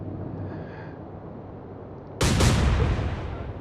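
Naval gunfire striking a ship in the Atlantic Fleet video game, a single sudden loud blast after a low rumbling lull, its roar decaying over the following second.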